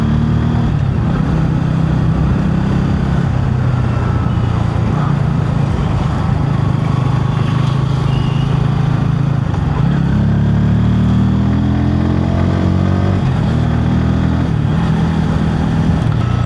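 A Bajaj Pulsar N160 motorcycle riding through local streets in the evening, its mid-pitched engine droning steadily up close with wind rush, pitch rising and falling gently as it shifts and accelerates.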